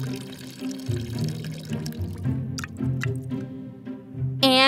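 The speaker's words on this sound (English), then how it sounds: "We'll add some water. Make sure it covers" Water is poured over the stones of a small home-built waterfall, making a continuous splashing trickle with gurgles and drips, close and moderately loud, and a brief bright splash lands right at the end.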